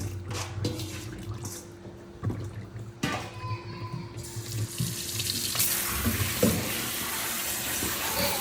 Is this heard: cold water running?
yes